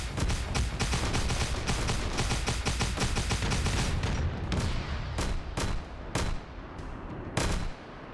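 Warhammer 40K battle gunfire near a Baneblade tank: a dense, loud barrage of rapid shots rolls continuously, then thins into separate sharp blasts spaced apart.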